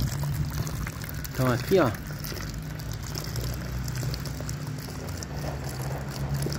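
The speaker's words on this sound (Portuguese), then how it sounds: "Tá caindo uma boa quantidade de água aqui, pessoal." Soapy water from a ram pump splashes steadily into a bucket, a continuous close trickling pour with a brief louder surge, while someone talks over it.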